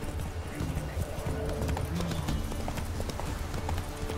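Galloping horse hooves from The Witcher 3 drum in a steady, loud clip-clop rhythm throughout, with faint game ambience and an occasional snort underneath.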